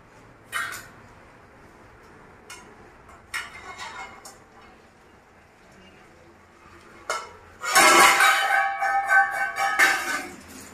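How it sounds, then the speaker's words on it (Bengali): Metal lid lifted off a cooking pot of mixed vegetables in a home kitchen, a few light clinks and scrapes followed by a louder clattering, rattling burst of metal on metal near the end. "এখন আমি ঢাকনাটাকে খুলে দেব"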